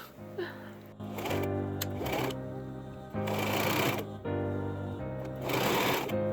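A sewing machine stitches a folded skirt hem in several steady runs, each a close, loud mechanical whir with brief pauses between bursts.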